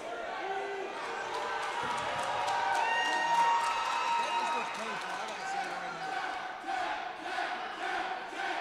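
A wrestling arena crowd screams and cheers steadily and loudly during a submission hold on the television champion, with swelling yells and chants forming a dense, unbroken wall of noise.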